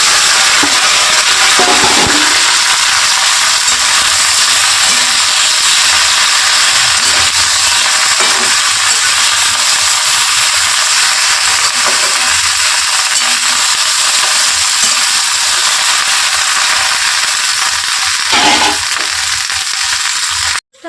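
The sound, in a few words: okra frying and being stirred in mustard oil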